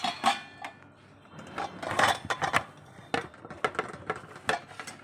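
A plate and a rice spoon set down, sharp ceramic and metal clinks and clatters in close irregular bursts with brief quiet gaps between.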